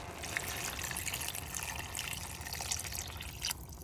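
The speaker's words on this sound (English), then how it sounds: "now I'm going to add water." Water poured steadily into a pot of Mexican-style chicken and lentil soup with the chicken set on top, a continuous close splashing fill that runs without pause and with no talk.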